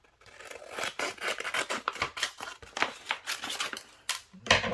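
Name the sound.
cutting craft material for Christmas crafts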